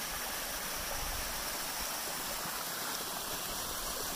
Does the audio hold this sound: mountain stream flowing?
yes